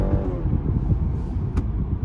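Engine of a 2022 BMW 330i on a test drive, a steady low rumble with a throaty drone that holds fairly constant and close, with a brief faint tick partway through.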